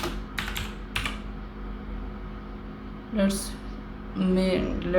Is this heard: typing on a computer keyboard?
yes